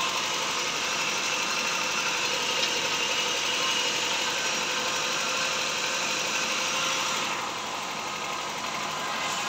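A car engine idles steadily and close after its distributor mechanical advancer has been replaced, a constant even rumble with a slight drop in level near the end.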